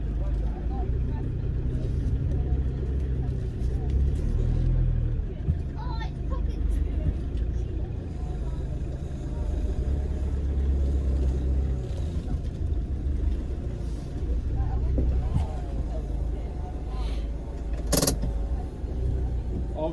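Iveco Daily van engine idling and creeping as it manoeuvres backwards, a low steady rumble throughout with occasional mechanical clicks, while people talk over it.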